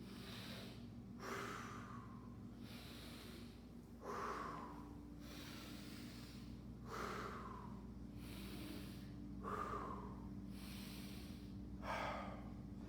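Slow, quiet breaths drawn while holding a push-up position: five evenly spaced inhales and exhales about every two and a half seconds, each a soft airy rush through nose or mouth against faint background hum.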